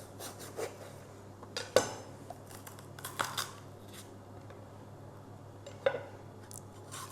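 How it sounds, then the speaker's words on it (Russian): Bell pepper being cleaned and cut with a knife in a home kitchen: quiet, sparse scraping and rubbing with a few sharper cutting clicks and taps on the board, alone with no talk. "Очищаем и нарезаем болгарский перец."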